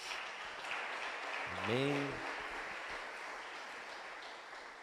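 A church congregation applauding, a dense, steady wash of clapping that carries throughout, with a single voice briefly speaking over it.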